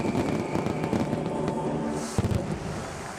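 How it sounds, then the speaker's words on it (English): Fireworks bursting over the Mazatlán carnival in 2013, announcing the new queen: a dense, continuous rumble of overlapping explosions with sharp cracks and crackling, loud and sustained throughout, with a stronger burst near the end. "Fireworks light up the sky to announce the new queen"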